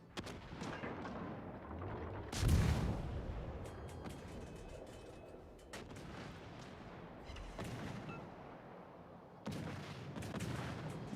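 Heavy naval gunfire from the French battleship Charles Martel in a World of Warships: Legends battle: a loud booming salvo near 2.5 seconds, then further rumbling shots and a strong blast near 9.5 seconds over a continuous battle din.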